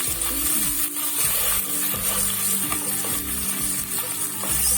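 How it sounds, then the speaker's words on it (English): A pan of sliced peppers and onions with tomato puree is stirred while frying, giving a constant close sizzle with scraping and clattering spoon strokes in an irregular rhythm. "This is a quick stir."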